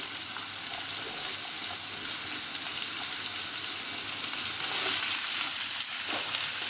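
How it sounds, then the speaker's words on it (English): Cauliflower sizzling loudly in a hot pan with oil, a steady dense hiss of frying that stays close and constant, with faint stirring clatter and no speech. "first I'm gonna put my cauliflower in."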